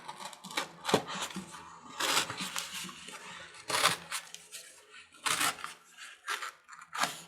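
Paper being torn carefully by hand in several slow rips with pauses between them, close and crisp, with no talk.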